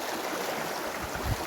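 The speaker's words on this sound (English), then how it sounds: "you hear the sound of the water?" Water flows in a village stream, a short, continuous, rushing burble at moderate level, with no speech over it.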